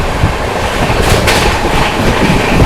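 Vikramshila Express passenger train racing along the rails on a Bihar to Delhi route, a loud steady rumble with rhythmic clickety-clack of wheels over rail joints and a brief burst of hiss, close and continuous.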